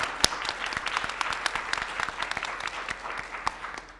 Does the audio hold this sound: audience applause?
yes